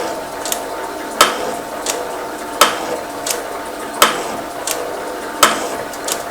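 A metal shaper fitted with a carbide cutting tool runs at 42 strokes per minute. Each stroke gives one sharp, near, scraping cut, about every 1.4 seconds, with quieter clanks in between over a steady low machine hum.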